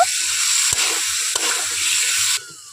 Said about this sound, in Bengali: আলুগুলো দেওয়ার পর মশলার সঙ্গে খুব ভালোভাবে মিশিয়ে নেব আর আলুগুলোকে খুব ভালোভাবে কষিয়ে নেব